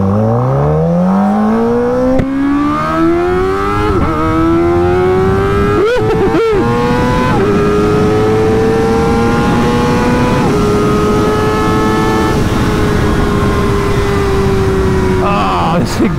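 A Graves Motorsports Kawasaki ZX-4RR motorcycle engine revs hard while being ridden, its pitch climbing steadily through the gears with brief dips at shifts, loud and close for the whole stretch.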